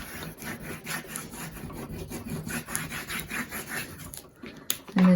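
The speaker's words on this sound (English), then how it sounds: "now we are going to burnish like you've never burnished before" Paper is rubbed firmly along the spine of a handmade journal in quick, repeated scraping strokes that sound close and moderately loud, with a louder handling knock at the end.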